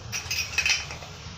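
A metal lid clinks and scrapes into place on a pressure cooker in a home kitchen, a few close, light metallic taps and rattles in quick succession with no talking.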